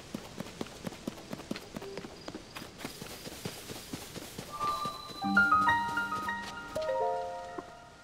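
Horse hooves clop in a steady run through Zelda: Tears of the Kingdom, repeated hits over a quiet backdrop, joined midway by bright chiming tones from the game that swell toward the end.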